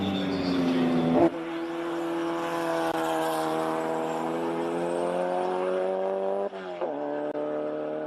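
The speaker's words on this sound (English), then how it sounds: "Out on track, chasing a Beetle up a hill with a Subaru engine." A Volkswagen Beetle race car fitted with a Subaru engine climbs a hillclimb course. Its loud engine note holds steady with rising harmonics for several seconds. A sharp gear-shift break comes partway through, then the engine pulls on, close and alone.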